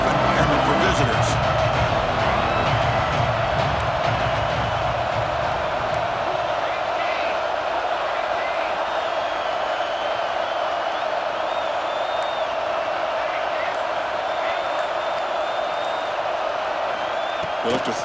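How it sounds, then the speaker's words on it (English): Steady roar of a large stadium crowd in College Football 26 during an early-game road contest against Texas, a dense continuous wash of cheering that holds at one level throughout with no clear peaks, alone and without talk. "Listen to the crowd energy here in the early going."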